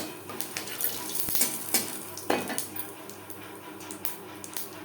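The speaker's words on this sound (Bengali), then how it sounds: "মাছ ভেজে নেওয়া তেলে ফোড়নে দিয়ে দেব গোটা জিরে।" Whole cumin seeds crackle and sizzle in hot oil left over from frying chala fish, with a steady hiss punctuated by sharp popping bursts throughout.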